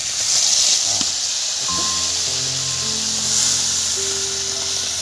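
Mustard spice paste sizzling in hot oil in a kadai while Bengali shorshe ilish is cooked, a steady loud hiss with some faint tonal hum underneath.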